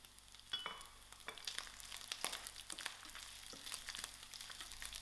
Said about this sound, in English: I'm going to add the spring onions, the bottom of the spring onions to fry with